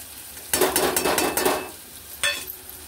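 Turmeric, garam masala and salt are stirred into an oily pan for a matki curry, giving a burst of scraping, sizzling utensil strokes followed by a pause and one more brief scrape.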